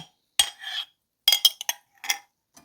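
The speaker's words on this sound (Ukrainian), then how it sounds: "І розколочуємо так, щоб творилася піна." A utensil whisks kefir with baking soda in a bowl until foamy, sending out quick, close clinking and scraping. Short bursts of clatter come in uneven groups separated by silent pauses.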